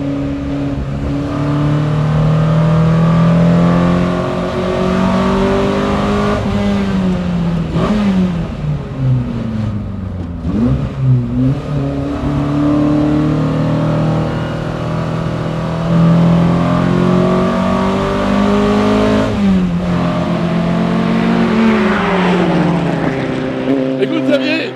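A 1967 Nomad Mk 1 race car on the Dijon circuit, its engine roaring loud and close, revving up and dropping through gear changes over a long run, with people talking over the noise.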